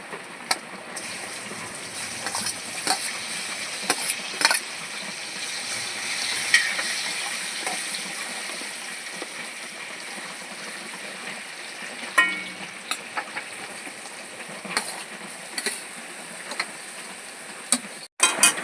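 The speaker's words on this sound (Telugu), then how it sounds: "ఇప్పుడు పచ్చిమిర్చి ఉల్లిపాయలు కూడా వేసేస్తున్నాను" Green chillies and onions with cumin frying in a pan for a dried prawn and egg curry, a steady close sizzle with scattered stirring clicks and scrapes throughout, no talking.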